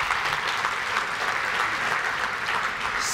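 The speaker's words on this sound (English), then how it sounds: "you guys should give yourself a round of applause" Audience at a government healthcare quality conference plenary session applauding, a loud, dense, even wash of many hands clapping throughout, close and sustained with no talking over it.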